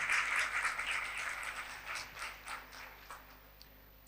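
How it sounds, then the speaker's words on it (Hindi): Applause greets a speaker named Kalam at a talk: a loud burst of clapping that starts at full strength and gradually thins and fades over several seconds, with no voices. "जोरदार तालियों में कलाम को वेलकम करें"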